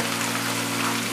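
Onions for mutton karahi fry in a pan, a brief, steady crackling hiss like light rain over a low constant hum.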